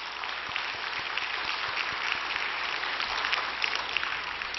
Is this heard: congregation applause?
yes